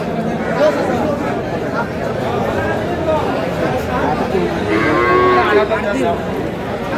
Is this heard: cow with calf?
yes